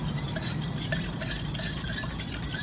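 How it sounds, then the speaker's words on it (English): Sugar muddled and stirred in a daiquiri, a steady gritty scraping and soft clinking of a tool pressing against the glass, close and continuous without talk. "So just give it a little press against the sides and a little stir"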